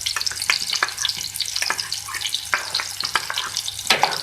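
Chopped medium onion and whole white cumin seeds frying in oil, a steady close crackle and hiss with repeated scrapes of stirring running throughout.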